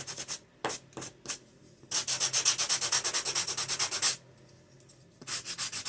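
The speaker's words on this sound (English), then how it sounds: "I'm just going to take my sand block over my trash can here and just sand her up" A sand block rubs over a wooden coaster in quick back-and-forth strokes, close and clear, with short bursts followed by a sustained run of steady scraping and then more bursts.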